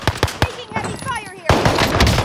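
Video-game gunfire erupts in rapid machine-gun bursts, loud and close, with sharp repeated cracks and whooshing effects between volleys, while a voice speaks briefly under the shooting.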